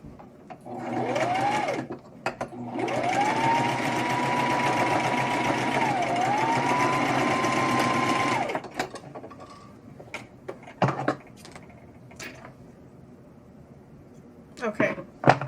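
Sewing machine stitching a small hole shut, a steady close-up mechanical whir running for several seconds with a slight pitch wobble, then stopping, followed by scattered clicks and handling noises.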